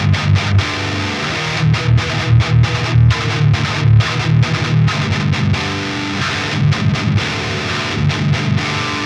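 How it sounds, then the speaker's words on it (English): Distorted electric guitar played through a Fortin Big Chugs pedal with its overdrive set at the lowest point, heavy chugging riffs cut by short palm-muted stops and gaps, loud and close, no voices. "there is actually quite a bit of distortion, really, even with the overdrive all the way at the lowest point."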